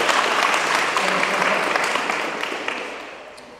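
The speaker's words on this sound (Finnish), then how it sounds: "Aplodit Tatulle ja Karille." Applause for two participants, Tatu and Kari, at an electric-vehicle challenge event: a dense, steady patter of clapping from an audience that slowly tapers off over a few seconds.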